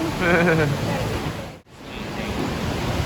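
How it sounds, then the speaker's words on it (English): Indoor waterfall at the Opryland resort in Nashville pours in a steady broadband rush, a loud constant wash of falling water with a person's voice briefly audible over it near the start. "Oh, we're right by a waterfall"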